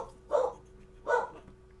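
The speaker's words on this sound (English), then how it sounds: "you may hear barking during the play" Two short barks from a dog inside a home, spaced about three-quarters of a second apart, moderately loud with quiet room tone between them.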